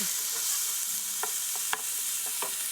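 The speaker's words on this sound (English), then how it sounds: "Okay, give that a little stir." Jalapeño or serrano peppers and ginger frying in a pan, with a low steady sizzle broken by a few distinct scrapes and clicks of a utensil stirring them, one sharper knock near the middle.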